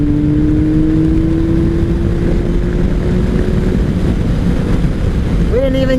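A 2003 Kawasaki ZR7S motorcycle accelerating on a cold road, its engine tone climbing steadily under loud wind rush before a gear change near the end.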